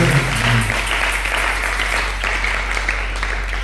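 A church congregation applauds together, a dense, sustained wash of clapping that holds at an even level throughout, with a low steady hum underneath.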